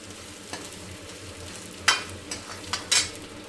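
A spoon stirs a spice mixture of ground jeera and other masala in a kadhai over heat. Soft scraping strokes run over a low sizzle, with several sharper metallic scrapes close by near the end.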